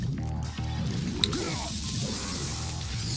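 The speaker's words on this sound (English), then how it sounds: "I see, oh, he got splashed by the acid." In Mortal Kombat: Deadly Alliance, acid splashes with a wet squish under continuous fight-game sounds, with a brief sharp hit in the middle.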